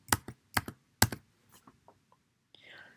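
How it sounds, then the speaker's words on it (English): Three sharp, loud keystroke pairs rap out on a computer keyboard at a steady pace, followed by several softer, scattered key taps and a brief faint hiss at the end. "I'm just going to hit K on both keyboards 3 times."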